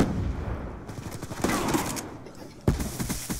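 Shotgun blasts in Call of Duty: Black Ops 2 multiplayer, a few heavy close reports spaced apart, the sharpest near the middle and one more toward the end, amid game ambience.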